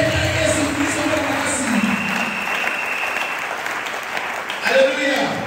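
A church congregation applauds and cheers for Jesus Christ during a service, a dense, sustained wash of clapping and voices filling the room, with a speaking voice carrying over it.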